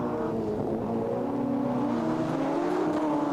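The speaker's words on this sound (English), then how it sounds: "Julesy and Chase Hoy behind as they come hard under brakes into turns 19 and 20 at the chicane" Race cars in a sim racing game brake hard into the Spa chicane, engine tones sliding downward under a steady whining drone, close and continuous with no voices.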